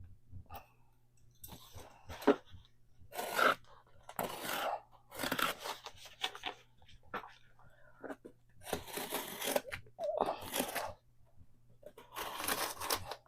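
Repeated crunchy cutting and tearing sounds in bursts as scissors slice open an Amazon shipping box, close and moderately loud with pauses between.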